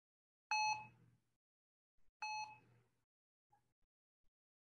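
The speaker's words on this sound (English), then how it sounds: "when you hear beeps, those beeps correspond to a label for one of the toys here" Two clear electronic beeps, about two seconds apart, stand in for spoken toy-name labels in a muted recording of a toddler playing with toys. Each beep is loud and sharp and fades quickly, followed by near silence with a few faint ticks.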